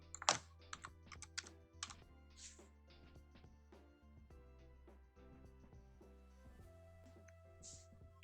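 Steady typing on a computer keyboard at a desk while entering a name into a spreadsheet, with a sharp burst of clacks at the start followed by softer, irregular key taps, close and alone.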